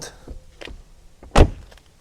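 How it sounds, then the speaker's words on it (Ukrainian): A car door on a VW Bora sedan with 184,000 km is shut, one solid close thump standing out after some lighter handling clicks and rustles. "А двері як тут закриваються класно."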